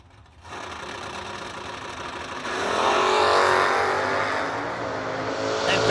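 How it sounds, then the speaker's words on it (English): A first-generation Chevrolet Camaro drag racing car accelerates hard down the strip, its loud engine roar swelling and rising in pitch, close and sustained, with crowd and track noise underneath. "609 the dial for Dylan Guy and the Digger Getter first gen Camaro."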